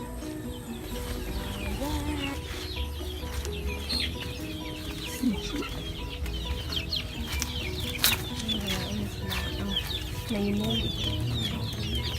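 Chickens inside a poultry house on a demonstration farm in Bohol, a busy flock clucking and squawking close by in overlapping calls, with an occasional louder cry, over steady barn noise and faint voices.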